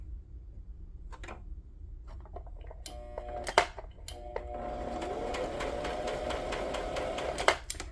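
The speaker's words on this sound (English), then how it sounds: "So I'm just gonna sew this together." A sewing machine stitches through a tea-bag junk journal, alternating between zigzag and straight stitches. A few scattered clicks at the start give way to a steady, fairly loud whirring run that continues to the end.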